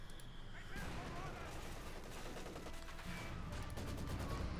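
Maxim machine guns firing in the Company of Heroes 2 video game, with rapid rattling bursts and distant battle noise layered into a continuous, fairly faint din.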